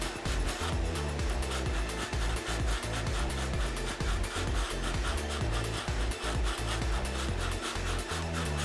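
The canopy area of a control line stunt model airplane, the Stunt Hangar Atlas, being sanded, with continuous close rhythmic back-and-forth rasping strokes, loud and steady with no speech.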